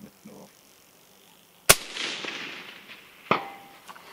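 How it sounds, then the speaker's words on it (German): Two sharp, loud rifle shots about a second and a half apart ring out on an outdoor hunting range, each followed by a rolling echo and reverberant tail. "wir schießen jetzt wieder eine Runde"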